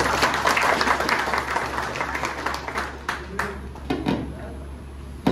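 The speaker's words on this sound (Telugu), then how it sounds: "మనమే ఒక్కసారి చప్పట్లు కొట్టుకుందాం." An audience at a speech honouring Chhatrapati Shivaji Maharaj breaks into steady applause, a dense wash of many hands clapping together that slowly thins out, with a low hum running underneath.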